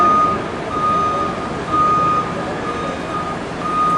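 A truck's reversing alarm beeps in a steady repeating pattern at a moderate distance over a broad bed of engine and road noise at Hoover Dam, with no one talking.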